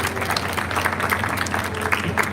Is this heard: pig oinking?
no